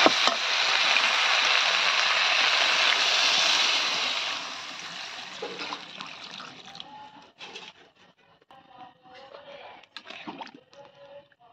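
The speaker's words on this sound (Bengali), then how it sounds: "এখন দিয়ে দিব ঝোলের জন্য পানি।" Water pours into a pot of chicken curry for the gravy, a steady gushing rush for about four seconds, then fading into scattered clinks and small splashes.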